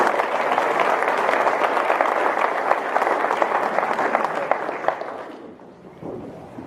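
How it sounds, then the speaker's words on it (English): An audience at a military assumption-of-leadership ceremony claps steadily outdoors, a broad crowd of hands with some wind rumble, before the applause thins and fades out near the end. "please join us in a round of applause for all of our distinguished guests"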